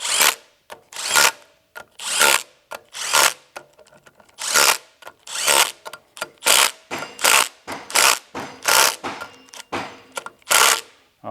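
Short repeated bursts from a power tool driving the shorter 5/16 bolts on a Tilmor 520 tractor final drive, roughly a dozen close, loud whirring runs with brief pauses between them and no talking.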